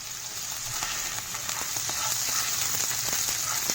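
Chopped carrots fry in hot margarine in a pan, giving a steady close sizzle with small crackling pops throughout, no voices.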